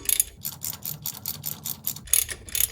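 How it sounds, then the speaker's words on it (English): Ratchet and socket turning a loosened engine bolt on a Toyota Camry 2.2L during timing belt work, a rapid run of close, crisp clicks with a brief pause near the end. "And transition to the ratchet and socket."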